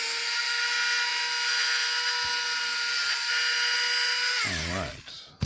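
A small handheld drill whines steadily at high speed while boring into a miniature to pin it to its base, then winds down and stops.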